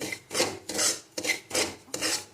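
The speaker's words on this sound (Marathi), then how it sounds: "हा रवा आपल्याला एकसारखा भाजून घ्यायचा आहे" Semolina roasting in a pan is stirred with steady back-and-forth scraping, five rhythmic gritty rasps close up with no voices.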